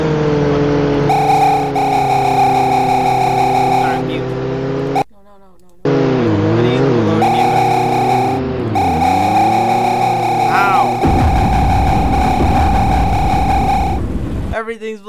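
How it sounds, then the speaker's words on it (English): Explosions in the game You Are The Road, heard as loud distorted blasts and whooshing effects over droning engine-like tones with pitch swoops, cut by a brief silence, then a dense crackling burst near the end. "Everything's blowing up!"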